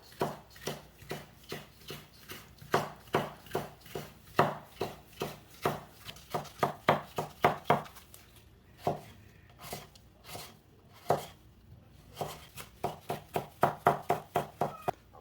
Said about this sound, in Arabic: والآن اكمل تقطيع